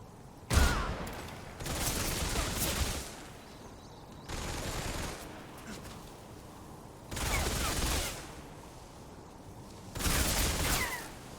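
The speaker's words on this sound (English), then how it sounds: "You're still shooting at me." Sustained bursts of automatic gunfire from the video game Metal Gear Solid 3: Snake Eater, in four or five long volleys that alternate with quieter gaps, heard fairly close and with no voices over them.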